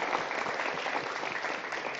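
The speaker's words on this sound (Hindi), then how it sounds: "एक मरतबा तालियां बजाएं जी" Studio audience applause during a Ramazan television broadcast, honoring a fallen man whose children are present, steady and fairly close, with dense clapping and no speech.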